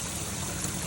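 Water trickles and splashes steadily through a koi pond filter shower packed with ceramic media, the pump running at reduced flow; a continuous close, even wash of falling water.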